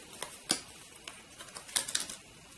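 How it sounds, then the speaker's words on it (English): Cards drawn one by one from a shuffled board game deck into a hand, a few faint, quick papery snaps and slides with short pauses between them in an otherwise quiet room. "We start by drawing 5 cards into our hand."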